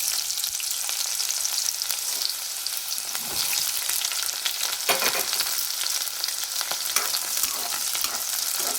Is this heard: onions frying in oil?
yes